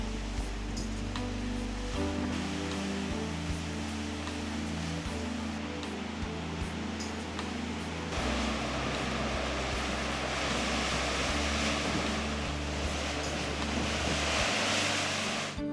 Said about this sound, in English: through which the sound of the sea can be heard